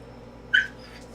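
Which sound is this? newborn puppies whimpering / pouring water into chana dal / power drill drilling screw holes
newborn puppies whimpering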